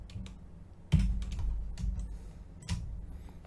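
Computer keyboard keys pressed, including the Enter key, a few distinct clacks with one firmer tap near the start and lighter typing clicks scattered around, close and quiet.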